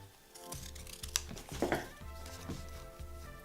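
Scissors trim a heat transfer flower to size for decorating plain shoes, giving a few quiet close snips and paper rustles over soft room noise.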